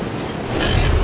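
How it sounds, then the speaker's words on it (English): A New York subway train rumbles and clatters along the rails, loud and close, with a bright metallic wheel hiss rising in the second half. "In New York, new subway trains have been added."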